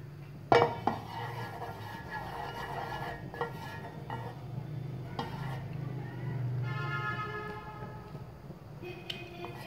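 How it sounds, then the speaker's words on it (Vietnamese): A frying pan is set on a kitchen stove for frying spring rolls, giving a sharp metallic clank followed by softer clinks and clatter of cookware over a low steady hum. "Các bạn cho mình chảo lên bếp để mình cho dầu ăn vào mình chiên lên nhé."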